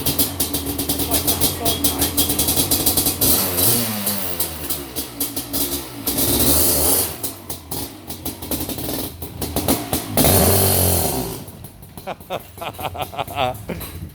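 A 1987 Kawasaki KX500 two-stroke motorcycle, street-legal with its original kickstand, runs nearby with a loud, continuous engine note that rises and falls through several revs, people talking over it at times.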